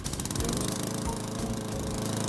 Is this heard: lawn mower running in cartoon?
yes